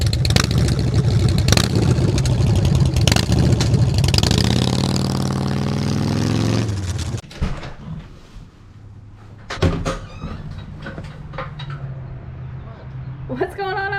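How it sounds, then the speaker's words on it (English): A Harley-Davidson bagger motorcycle engine rumbles loudly and revs up to ride off for several seconds, then cuts away to quieter surroundings with short knocks and a brief voice near the end. "I just want to go ride my brand new motorcycle."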